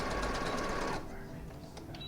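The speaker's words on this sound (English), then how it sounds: "I'm just gonna sew these right sides together into arm tubes, also known as sleeves." A sewing machine stitches the sleeves of a black lining fabric garment with a rapid, close mechanical whir. It runs for about a second, then stops, leaving quieter ticks and handling sounds.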